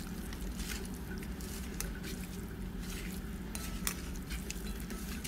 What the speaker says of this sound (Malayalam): ഈ വറക്കനെ പിടിക്കട്ടെ.